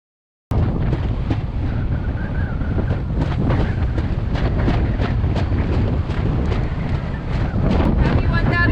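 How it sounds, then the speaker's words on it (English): Strong wind of over 30 knots roars across the microphone while sailing, a loud, steady buffeting rush broken by gusty thumps throughout, with no other sound standing out. "happy 30 knots plus of wind for us"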